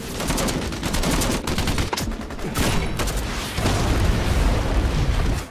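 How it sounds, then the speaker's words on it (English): Movie gunfight in a battle over Slatina Airport in Kosovo, dense bursts of rapid automatic gunfire with heavy booming impacts, continuous and loud from start to end. "he stays in the gunfight to give Shatalov cover"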